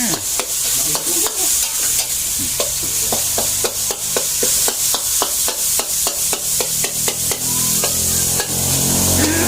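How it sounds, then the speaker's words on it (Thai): Holy basil stir-fry (pad kaphrao) cooking in a rice shop: a spatula clacks and scrapes against the wok in a steady, rapid rhythm over a continuous close sizzle, with no talking. "แล้วก็ผัดกะเพราไปด้วยนะพี่น้อง"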